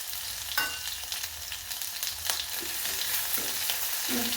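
Finely chopped ginger and garlic fry with cumin seeds in hot oil for a dal methi, giving a close, crackling sizzle with scattered pops and a brief stirring clatter throughout.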